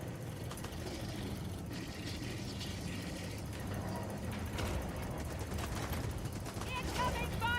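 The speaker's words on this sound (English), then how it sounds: "Incoming fire!" Gunfire in the co-op shooter Helldivers 2, dense continuous volleys of shots and explosions rolling under urgent shouted voices throughout, with a sharper burst of rapid fire near the end.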